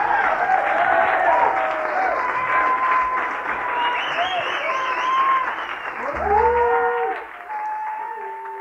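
Applause for a blues band in a club crowd: steady clapping mixed with whoops, whistles and shouted voices, thinning slightly near the end.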